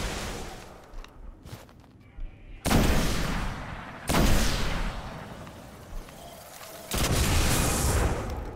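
Gunfire in the video game Destiny: several loud, broadband bursts of shots and blasts, with quieter shuffling between them.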